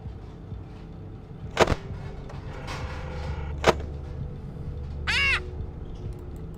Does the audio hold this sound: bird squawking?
yes